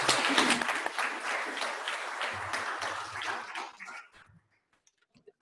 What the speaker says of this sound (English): Could you please join me in a round of applause for these volunteers?